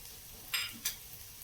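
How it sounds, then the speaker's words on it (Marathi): A spoon clicks twice against a pan while corn upma is mixed with lemon juice and coriander, two short soft scrapes over a quiet background. "हे पण आपण सगळं मिक्स करून घेऊया व्यवस्थित."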